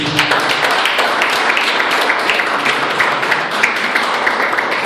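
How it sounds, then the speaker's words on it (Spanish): Congregation at an apostolic youth church service in Venezuela claps together in a loud, sustained round of applause, dense and even, with faint voices mixed beneath. "Démosle el aplauso a Jesucristo"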